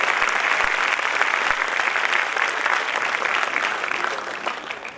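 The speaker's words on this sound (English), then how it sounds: "give a big round of applause to our paper presenters" Sustained applause from a national sustainability conference audience in Vadodara for the paper presenters, steady dense clapping lasting several seconds and tapering slightly at the end.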